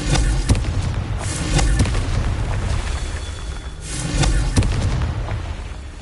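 Explosive blasts from the Confringo fire spell in Hogwarts Legacy, several heavy booming bursts spaced a second or two apart over a continuous rumbling game soundscape.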